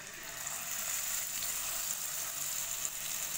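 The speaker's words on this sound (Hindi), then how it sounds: "मीडियम फ्लेम पे आपने इसको शैलो फ्राई करना है ताकि क्रिस्पी रहे।" Pieces of fish shallow-fry in hot oil over a medium flame, giving a loud, steady, continuous sizzle with no voices over it.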